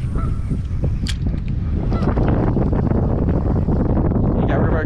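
Geese honk repeatedly outdoors near water on a fishing outing, loud calls over steady wind noise and background activity.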